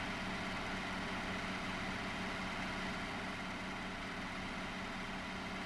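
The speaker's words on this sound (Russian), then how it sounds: "Давайте дадим полный газ на правом двигателе и увидим, как стрелка тахометра моментально подскакивает до 490 оборотов в минуту" A submarine's diesel engine runs at full throttle in the U-Boat Sim game, a steady, dense mechanical drone and hum that holds unchanged throughout.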